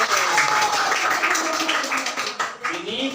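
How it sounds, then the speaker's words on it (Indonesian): Schoolchildren in an Indonesian madrasah classroom clap together for group C, a loud, busy patter of many small hands over the whole short stretch, mixed with voices. "Tepuk tangan untuk kelompok C."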